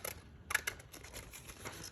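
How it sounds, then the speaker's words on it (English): Quiet snipping of scissors through paper envelopes and tags, a few soft cuts close by against a faint hiss, no talking. "I'm not even tearing, I'm just using the scissors."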